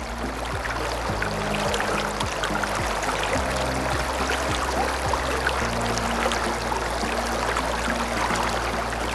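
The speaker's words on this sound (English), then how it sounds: "I love the sound of the water trickling through the rocks." Water trickling and burbling over rocks in a river at a campground, a steady close wash of flowing water with a low engine-like hum underneath throughout.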